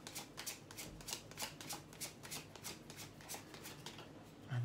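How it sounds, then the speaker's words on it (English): Tarot cards shuffled by hand in a steady run of soft riffling bursts, close and moderately loud, with no talking. "the last one is the easiest one because I simply just reverse the cards, and then the more I shuffle them"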